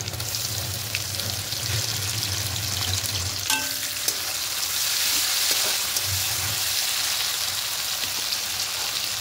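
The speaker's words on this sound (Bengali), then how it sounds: "এবার এখানে চিংড়ি মাছগুলো দিয়ে দেবো।" Prawns with chopped onion sizzle steadily in a hot pan, a continuous loud frying hiss with occasional scraping stir strokes, close up and without talk.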